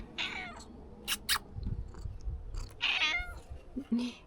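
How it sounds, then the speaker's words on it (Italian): A cat meows on a hiking loop trail through forgotten mountain villages near Pugnai, Marsanghi and Bellotti in Italy, with a couple of short close calls separated by footsteps and outdoor rustle. "che bel gatto"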